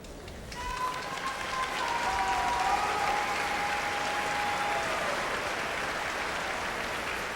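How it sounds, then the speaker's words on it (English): Steady applause from a curling crowd at a 2001 women's tournament fills the arena, rising quickly and holding at a full, even level, with a whistle-like tone drifting over the clapping early on. "And some applause of encouragement"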